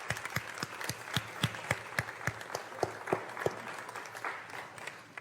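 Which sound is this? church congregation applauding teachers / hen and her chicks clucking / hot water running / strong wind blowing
church congregation applauding teachers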